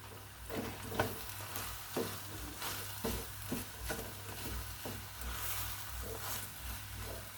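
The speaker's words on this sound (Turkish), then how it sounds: "Şöyle karıştıracağım." A spoon stirs a seasoned stuffing filling in a pot for black mulberry leaf dolma, giving soft repeated scraping strokes at a steady rhythm over a low, constant background hum.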